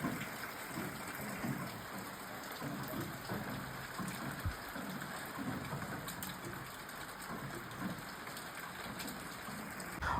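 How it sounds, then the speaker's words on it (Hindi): Heavy rain pouring in a hillside home setting during a March storm, a constant dense hiss of drops with scattered close splashes and patters, steady and fairly quiet throughout with no talking. "यहाँ देखो बारिश ना पहले से ज़्यादा और तेज़ हो गई है।"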